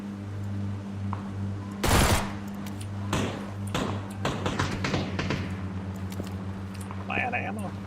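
Video game gunfire from a DMR fired off a moving vehicle, a loud burst followed by several sharp shots over a low steady hum, with people talking throughout.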